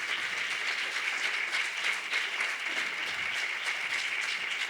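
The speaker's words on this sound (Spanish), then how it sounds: "Un aplauso para María." Sustained applause from a crowd, a dense even wash of clapping that carries on without pause throughout.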